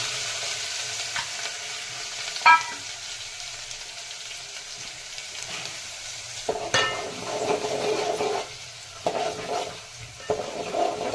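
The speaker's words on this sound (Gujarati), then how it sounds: "સરસ રીતે હલાવી લઈએ મિત્રો।" Ginger-chili paste, asafoetida and onion sizzle in a pan while a spoon stirs them, a steady frying hiss broken by scraping strokes and a few clinks, close with no talking.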